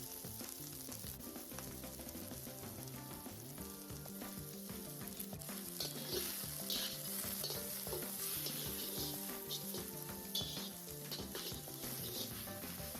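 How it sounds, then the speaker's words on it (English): Shallot and ginger sauté in hot grapeseed oil, giving a steady, even sizzle that runs the whole time, with faint stirring and no voices. "then you just want to start by sauteing your shallot and your ginger"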